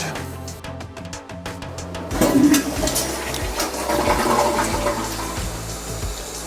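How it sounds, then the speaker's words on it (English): A new Kohler Gleam seat-height toilet flushing nearby, starting with a sharp rush of water that settles into a steady swirling drain and refill, heard alone. "It's a good flush."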